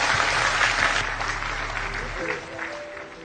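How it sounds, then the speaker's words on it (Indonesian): Audience applause at a Javanese cultural gathering, broad dense clapping that fills the space and then thins toward the end, with voices mixed in beneath it. "kita persilakan tepuk tangan untuk Pak Muzamil 10 sampai 15 menit."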